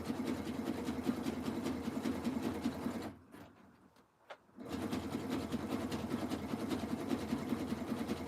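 A heavy-duty sewing machine stitches a jelly roll rug, running steadily and loudly, pausing briefly for about a second and a half midway before resuming its continuous whirring hum.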